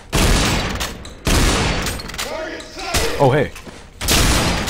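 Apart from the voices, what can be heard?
new type of shotgun firing in video game Underhell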